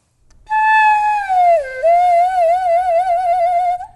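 A lone flute head joint blown with no body or foot attached gives a single clear, breathy pitched tone that bends downward, then wavers with a slow vibrato for about three seconds.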